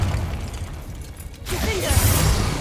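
Hogwarts Legacy gameplay with a Confringo fire spell going off as a sudden burst, followed by a whooshing, roaring blast that lingers for over a second over low game ambience.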